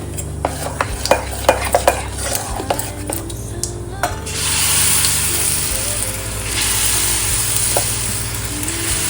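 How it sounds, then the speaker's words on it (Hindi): Mustard seeds dropped into hot oil on a tawa. Sharp scattered crackles and pops come first, then a steady loud sizzle that surges and carries on, with a low hum underneath and no talking. "सबसे पहले हम इस तेल जो हमने तवा चढ़ा है इस पे राई डालेंगे थोड़ी सी"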